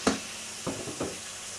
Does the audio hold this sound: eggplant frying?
yes